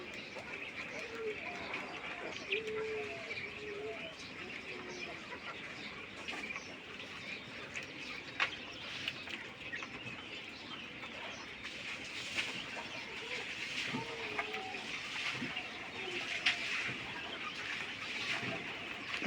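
King quails on a quail farm call in short, repeated chirps and clucks against a steady background hiss, with someone talking over them throughout.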